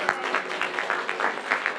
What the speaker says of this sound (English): Just wanted to ask for a round of applause for everyone that made this possible